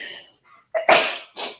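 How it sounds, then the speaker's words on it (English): A single human sneeze indoors, close and loud: a sharp inhale followed by an explosive burst and a quick trailing exhale. "Excuse me, I'm going to sneeze again."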